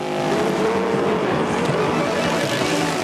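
Race cars roar through a lap of an ice race in Antigo, a loud, continuous engine drone with tires scrabbling on ice, steady and close throughout.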